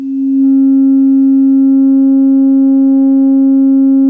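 A loud, steady low test tone buzzes from a subwoofer with a nasal, reedy edge and turbulent port chuffing, holding unchanged from start to finish.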